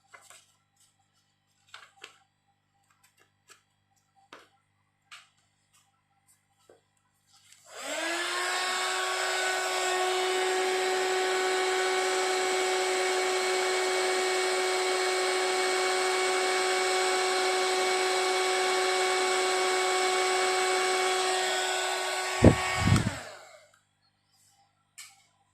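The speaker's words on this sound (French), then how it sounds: "Et je viens chauffer ça avec mon heat gun comme tout à l'heure." A heat gun heating a paper card for card making, a steady loud blowing whine that starts after faint tapping, holds for about fifteen seconds, then cuts off abruptly.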